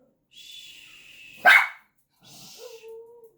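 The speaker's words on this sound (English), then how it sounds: "The dogs are out on the deck barking." Dogs barking outside on a deck, one sharp loud bark standing out between softer high whines or whistling tones, fairly close in a quiet setting.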